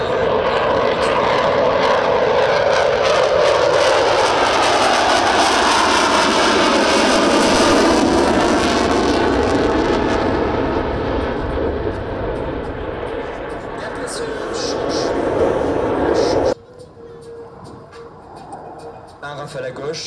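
Rafale fighter jets roar past at the Avord air base airshow, a loud sweeping jet blast that rises and falls, then cuts to a quieter distant rumble near the end.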